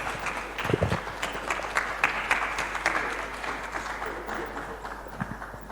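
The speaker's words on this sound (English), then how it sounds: "With a round of applause" An audience at a youth seminar gives a round of applause, a scattered wash of claps at moderate distance, rising and then tapering off, with a low steady hum beneath.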